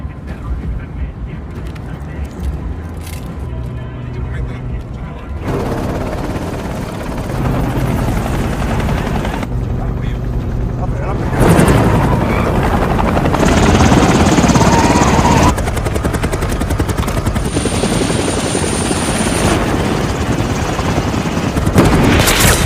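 Helicopter flying in pursuit, a loud continuous rotor roar that swells and shifts in intensity, joined by bursts of gunfire-like impacts and booms.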